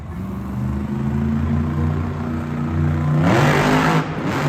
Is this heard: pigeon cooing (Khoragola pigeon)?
no